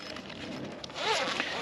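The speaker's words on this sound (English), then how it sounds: "on the back side here, there's also a zipper compartment" Zipper on the back of a portable solar panel opened along its cable compartment outdoors, a short rasping pull that grows louder and brighter in its second half, heard alone and close.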